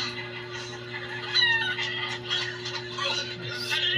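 Chicken clucking nearby during a cockfighting gaffing session, a series of short throaty clucks and squawks over a steady low electrical hum, with faint voices in the background.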